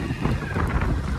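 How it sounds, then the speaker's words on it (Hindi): Strong wind buffets the microphone outdoors, a loud continuous roar and rumble that rises and falls in gusts throughout, with no clear talking over it. "आज तो मतलब खतरनाक तेज हवा चल रही है"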